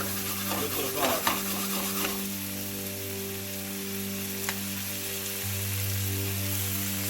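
Carrots and onions stirred into a hot pan, a faint steady sizzle with a burst of stirring and clatter near the start, then a soft hissing that continues alone.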